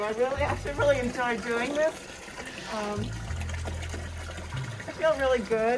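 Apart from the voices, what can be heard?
water filling horses' buckets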